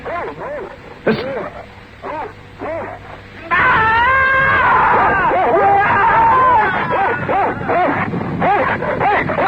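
In a 1967 Sherlock Holmes radio drama, The Copper Beeches, a dog yips, barks and whimpers loudly and close by amid babbling voices and commotion.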